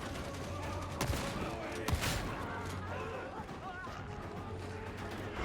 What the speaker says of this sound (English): Nobody survives the shotgun.